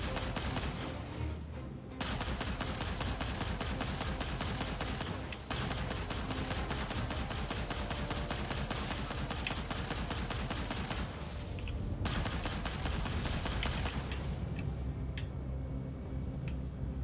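Heavy, sustained gunfire fills the scene in the Star Citizen space game, with dense bursts of rapid shots and explosions running almost continuously, loud and close, dropping out only in brief gaps.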